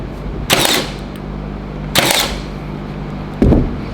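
A Milwaukee Gen 2 18-gauge cordless brad nailer fires three times in bump mode, each a sharp, loud close snap, spaced at uneven intervals with a quiet motor whir between.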